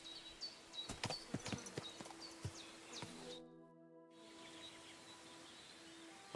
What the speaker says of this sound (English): I've got a horse for you here.